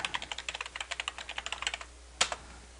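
Rapid typing on a computer keyboard, a quick run of close, crisp key clicks for about two seconds, then a pause and one sharper key tap.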